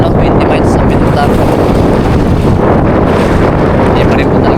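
Strong wind roars steadily aboard a boat out at sea off Sta. Cruz, a constant loud rush buffeting the microphone, with waves and water noise mixed in throughout.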